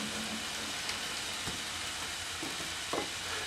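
A New York steak sizzles steadily in a hot pan, a dense continuous frying hiss with a few brief pops and clicks, close and alone with no talk.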